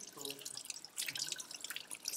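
Warm tap water runs and splashes faintly as a face mask is rinsed off, giving scattered soft drips and trickles at close range.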